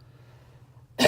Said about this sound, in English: I apologize for my coughing